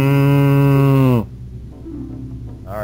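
A loud cow moo from The Legend of Zelda: Majora's Mask, a long harmonic bellow that stops abruptly, followed by quieter low game sounds and a brief tonal cue at the end.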